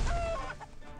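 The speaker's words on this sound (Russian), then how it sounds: "Курицу я успел позвать." A chicken in the video game What The Hen! gives a short burst of close, clear clucks that fade within a second.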